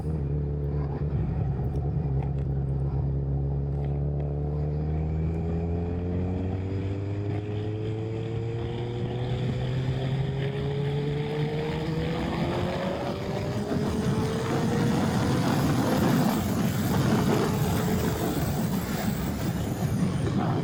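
A Kawasaki ZZR motorcycle pulls hard in second gear, its engine note climbing smoothly and steadily in pitch under loud wind rush, close and continuous with no voices.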